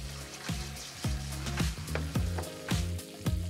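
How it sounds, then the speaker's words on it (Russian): Chicken breast fries over high heat in a pan, producing a continuous close sizzle punctuated by regular sharp pops and spatters. "Обжариваем на сильном огне примерно 5 минут."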